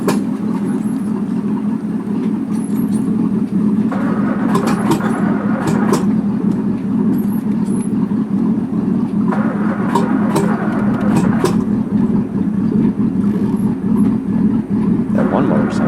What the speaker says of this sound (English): That one motor sounds nice.